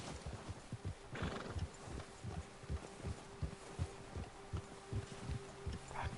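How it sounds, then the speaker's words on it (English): A horse in Red Dead Redemption 2 walks with a steady clip-clop of hooves and gives a clear whinny early on, the hoofbeats continuing evenly at close range with no talk. "Que bonito cavalo do Charles."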